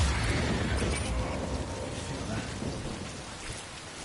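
Steady heavy rain in the video game Death Stranding, a dense broadband hiss with low rumbling underneath, fairly loud and continuous, easing slightly toward the end.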